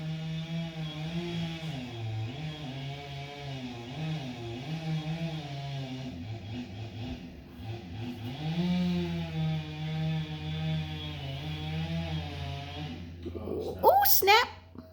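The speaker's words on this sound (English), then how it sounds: "Oh no, his chainsaw's stuck." A chainsaw drones steadily while cutting down a neighbor's tree in a garden, its engine pitch wavering and rising as the chain bogs, with sharper noises near the end.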